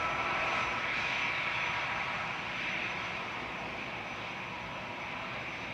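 Jet airliner engines at Manchester Airport, including an easyJet aircraft, produce a steady, loud, broadband roar that holds throughout without a break and fades slightly toward the end.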